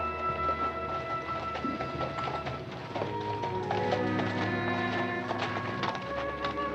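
A horse's hooves clip-clop as a rider arrives in an old western setting, light tapping steps beneath a musical score.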